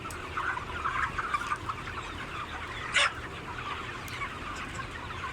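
Chickens in a barn cluck continuously in a dense, busy chorus, with one louder squawk standing out near the middle; no voices.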